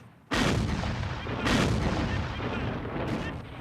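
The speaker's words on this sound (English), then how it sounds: "the 125th was awakened by the report of a rebel cannon assault on Hazel Grove" Cannon artillery fire booms in heavy blasts, one at the start and another midway, each followed by long rolling rumble and echoing reports, loud and continuous with no talking.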